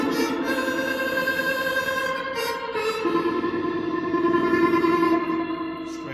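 Sustained guitar chords shimmer with a chorus effect and wash into a long, echoing reverb tail, played alone without any voices.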